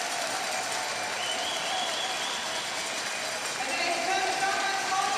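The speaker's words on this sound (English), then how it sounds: "The crowd are getting behind him. The Swiss, the Australians. The Bam Bams are being banged together now." Spectators at a UCI Hour Record track cycling attempt cheer and bang thundersticks together, a continuous roar of clapping and banging that is fairly distant and even, with some voices rising through it.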